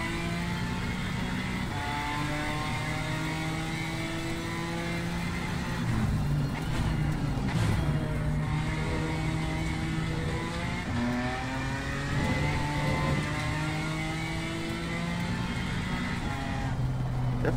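BMW M4 GT4 race car in the racing game Assetto Corsa Competizione, its engine revving up and down through gear changes in a continuous loud drone with rising and falling pitch sweeps, no voices over it.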